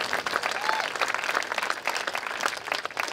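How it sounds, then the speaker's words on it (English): An audience at a Veterans Day celebration claps in sustained applause, a dense crackle of many hands at moderate loudness, with no clear speech over it. "go ahead, you can applaud"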